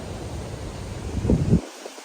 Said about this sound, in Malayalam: നല്ല ഒരു തണുത്ത കാറ്റ്